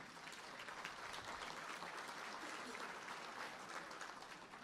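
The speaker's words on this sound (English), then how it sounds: "That applause was initiated by the Lions Club table," Steady applause from an audience at a civic State of the Village gathering, led off by a Lions Club table; dense, even clapping fills the whole stretch at a moderate level without voices.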